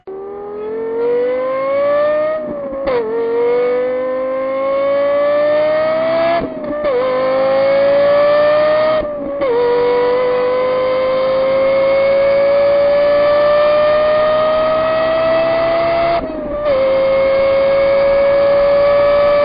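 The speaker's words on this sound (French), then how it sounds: "la Lexus LFA fait l'un des plus beaux sons moteurs de l'histoire de l'automobile" Lexus LFA with its Yamaha co-developed V10 engine, loud and close, revving through several rising pulls with brief gaps between gear changes, a smooth high wail climbing in pitch, no voices.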